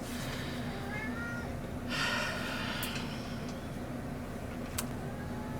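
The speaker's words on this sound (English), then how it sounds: "All of the snorkeling and meowing and scrapping that you hear is my pug and my cat" An indoor cat meows a few times, faint and brief under a steady low hum, alongside snuffling and shuffling noises, with no talking.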